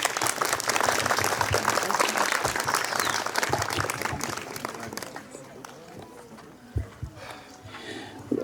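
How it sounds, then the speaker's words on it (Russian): Audience applause at a religious gathering, dense clapping that fills most of the stretch, loud and sustained, then thins out into scattered claps and crowd noise toward the end. "когда вы вот так аплодируете, настолько настроение поднимается"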